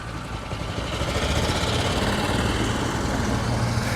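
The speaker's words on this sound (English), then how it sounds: "I would like to take you on a golf cart ride down this golf cart path" A golf cart drives along a cart path through a golf course with oak trees and Spanish moss, its motor giving a steady, close, continuous hum with wind-like rushing noise throughout and no talking.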